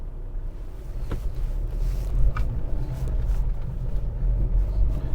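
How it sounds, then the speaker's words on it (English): A BMW 320d M Sport diesel car, bought as a cheap project car, driving on a test drive, heard from inside as a steady low engine and road rumble with some wind noise. "So I'm pretty sure you want to come on a test drive with me, so we'll take it for a spin"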